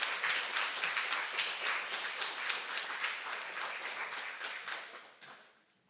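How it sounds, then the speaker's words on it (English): An audience at a live Disability Pride festival event applauds, a dense sustained patter of clapping that gradually fades out at the end; no speech over it. "Give it one more time for Darlene"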